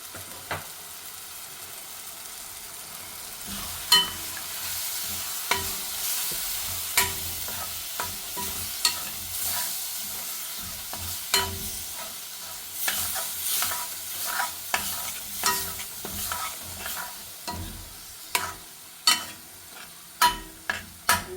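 A spoon scrapes and stirs capsicum gravy masala in a frying pan, sharp clinks and scrapes recurring irregularly over a steady low sizzle, close and moderately loud with no voices.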